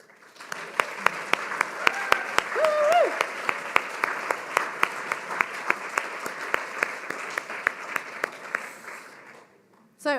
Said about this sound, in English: ask everyone to give themselves a big round of applause for those achievements